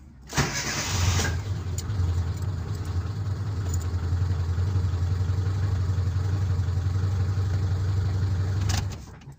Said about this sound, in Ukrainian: А зараз я вам покажу, як він заводить.